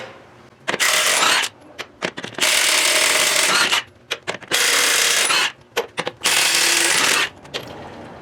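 A Milwaukee 3/4-inch cordless impact wrench on a fresh battery hammers at lug nuts during frame and axle prep on a 2009 Ford F750, in four loud, rattling bursts separated by short pauses.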